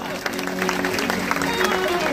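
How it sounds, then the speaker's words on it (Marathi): An audience at a Bhagavat katha religious gathering claps continuously and loudly throughout. Voices and some tonal sound mix in underneath the applause. "त्यांच्यासाठी त्या टाळ्या वाजवा"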